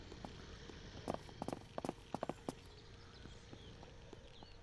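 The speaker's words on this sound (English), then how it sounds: "That's why we're still hearing footsteps." Footsteps from the zombie survival game SurrounDead thud in a quick irregular cluster midway through, faint and somewhat distant over a steady low ambient bed.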